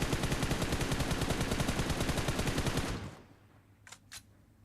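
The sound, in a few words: gunfire in video game PUBG Mobile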